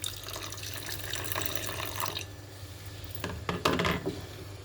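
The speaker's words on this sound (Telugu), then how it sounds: "కొంచెం వాటర్ కూడా పోసుకుందాం." Water runs and splashes while sambar is being cooked, a bright, gurgling flow that breaks into short, louder spurts and drips toward the end, with no talk.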